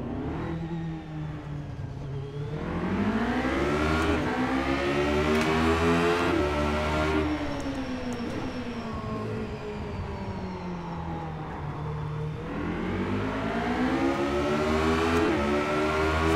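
Radical race car engine in the iRacing video game at Circuit of the Americas, revving loudly and continuously with rising and falling pitch through gear shifts, driven flat out with no talk.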